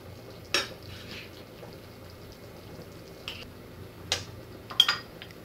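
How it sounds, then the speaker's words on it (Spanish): Beef with oregano is stirred in a pan for Ecuadorian lomo saltado, with a quiet steady sizzle under a few separate scrapes and clinks of a utensil against the pan, spaced out over several seconds. "Y voy a mezclar la carne."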